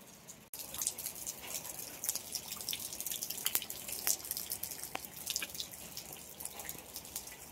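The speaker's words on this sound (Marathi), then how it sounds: "एकदम बारीक बारीक पडता" Light rain drips steadily at a house gallery, irregular close taps and patters over a soft wet background wash, continuous for several seconds.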